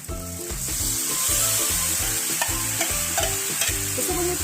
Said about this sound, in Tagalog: Pwede na natin ilagay ang ating beef internal organ.